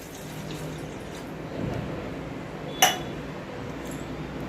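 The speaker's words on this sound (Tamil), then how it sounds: "இந்த 1 டம்ளர் தண்ணியை ஊற்றிக்கலாம்." Water pours steadily into a metal vessel, nearby and moderately quiet, with a single sharp clink partway through.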